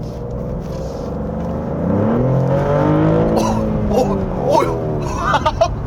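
A Maserati GranTurismo Modena with a 490-horsepower V6 revs close by, its exhaust note climbing and surging in bursts over faint background chatter.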